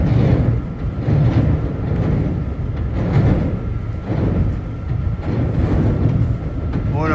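An LIRR M3 commuter train on the Brooklyn shuttle gives a loud, steady rumble from close by, with rhythmic rail clatter and a faint high whine running through it.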